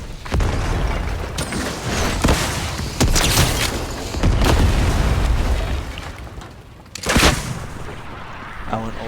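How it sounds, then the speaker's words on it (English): Grenade explosion in Fortnite, loud booming blasts and bursts layered with gunfire across several seconds, dense and close. "Grenade."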